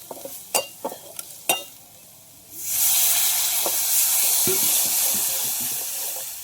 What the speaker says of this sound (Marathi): सर्व साहित्य मस्त परतून झालं की याच्यात टाकू आपण थोडंसं पाणी.